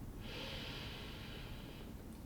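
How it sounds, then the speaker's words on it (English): A single steady nasal inhale taken during a beginner hip-opening yoga sequence, a soft airy hiss lasting about two seconds, close and quiet with no talking. "We're gonna inhale through our nose and then exhale through our mouth."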